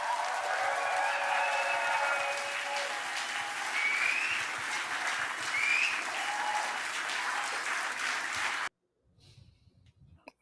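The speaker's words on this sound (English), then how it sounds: "lots of applause there" Applause at an NDP convention fills the hall as a dense crowd clapping with scattered whistles and cheers, sustained for several seconds before cutting off into near silence.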